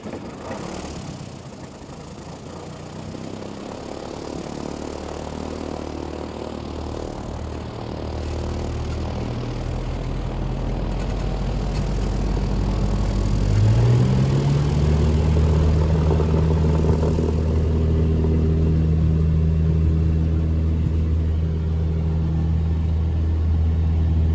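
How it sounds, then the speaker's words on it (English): A small propeller engine on an HO scale model plane cranks and catches, settling into a steady, loud rumbling idle that grows stronger and smoother, with no voices. "before the pilot starts the engine"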